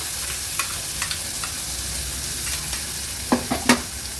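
Chutney with turmeric sizzling in a spoonful of hot oil, a steady frying hiss broken by a few scraping stirs of the spoon, louder clinks near the end.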